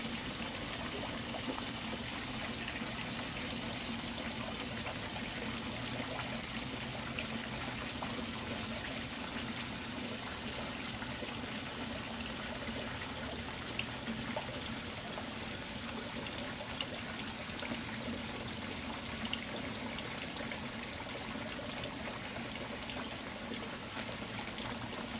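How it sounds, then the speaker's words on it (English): Steady water from a small waterfall trickles and splashes into a garden pond, a continuous even pour heard close and alone, with no voices. "There's another waterfall."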